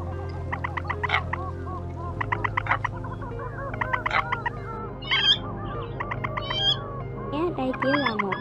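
Recorded calls of crakes, swamphens and coots used as a lure for bird trapping: repeated chirping and clucking notes at moderate volume over a steady low hum.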